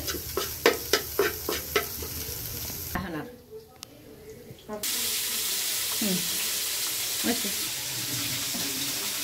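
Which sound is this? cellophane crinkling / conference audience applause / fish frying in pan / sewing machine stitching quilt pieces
fish frying in pan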